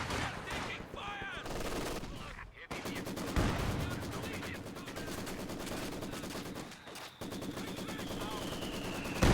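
Rapid bursts of LMG-42 machine-gun fire ripping through a Company of Heroes 2 battle, dense and loud for the whole stretch amid layered combat noise, with a voice occasionally audible underneath.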